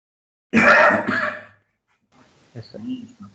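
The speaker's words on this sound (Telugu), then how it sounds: "అయినా దగ్గు తగ్గట్లేదు" A single harsh cough, loud and close, followed by a pause and some quieter breathy throat sounds.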